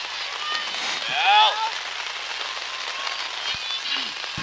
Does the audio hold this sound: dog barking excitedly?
no